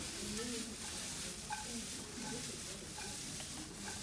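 Stir fry of vegetables sizzling in a pan, giving a steady, close frying hiss with occasional stirring scrapes; a voice is faintly present beneath.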